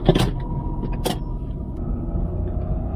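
A Renault Clio 4 with a 0.9-litre turbocharged engine idles steadily, a low constant rumble with a couple of brief mechanical clicks or thumps early on.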